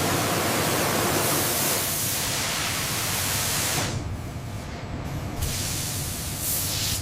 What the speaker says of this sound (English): The plasma spray process applies a dense ceramic layer, crucial for protecting the superalloy blades